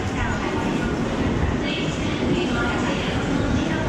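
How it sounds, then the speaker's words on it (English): A JR East train at a Japanese station, heard as a steady, loud rumble of rail and carriage noise that holds level throughout, with station bustle and voices mixed in. "So this is where I catch my connecting train."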